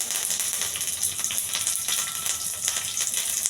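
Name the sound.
curry leaves sizzling in hot oil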